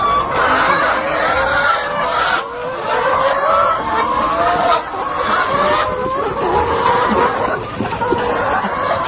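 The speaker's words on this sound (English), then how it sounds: "Currently, we are keeping layer chickens, about 300." Around 300 laying hens kept on a school farm in Malawi cluck and chatter continuously, several birds overlapping close by in a busy, fluctuating flock murmur with no talking.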